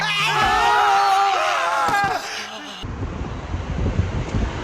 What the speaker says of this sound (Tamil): காத்து பாருங்க அப்படி அடிக்குது